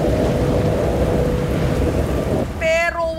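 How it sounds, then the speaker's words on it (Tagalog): Heavy rain pours down steadily in a loud, dense wash, with a boat setting in open water; near the end the downpour cuts off and a short burst of speech-like tones is heard. "nung bumuhos ang malakas na ulan"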